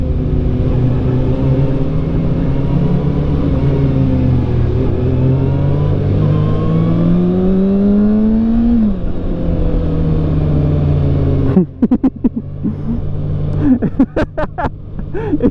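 A Kawasaki ZX6R motorcycle engine revs hard and close, its pitch climbing steadily to a high wail near 8,000 RPM. It then falls back and sputters with sharp pops and crackles, with no talking.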